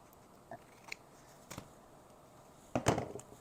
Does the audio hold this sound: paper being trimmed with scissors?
yes